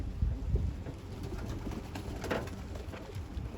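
Tumbler pigeons coo near a windy lakeside at Küçükçekmece, soft repeated calls close by over a constant breezy rumble.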